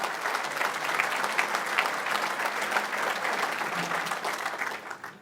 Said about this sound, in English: Nice round of applause for our past presidents in attendance tonight.